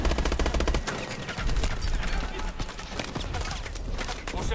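Rapid automatic gunfire from a Call of Duty: Advanced Warfare firefight, dense overlapping bursts and shots sustained throughout, loud and close, with a commanding voice shouting over the battle.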